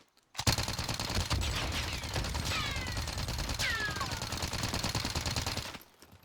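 An automatic weapon with a rapid-fire mod rattles off a fast continuous stream of shots in Warzone for several seconds, with shell-like pings and ricochet chirps mixed in, then stops abruptly.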